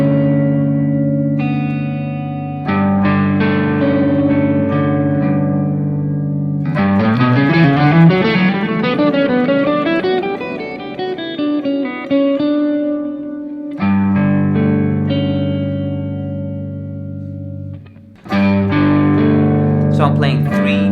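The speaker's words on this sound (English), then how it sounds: "I call it G Lydian chord because it's played with the sharp 11, and it sounds like this." Electric guitar strums a G Lydian chord with a sharp 11, ringing and sustained with effects, broken by arpeggiated runs and then repeated chord hits.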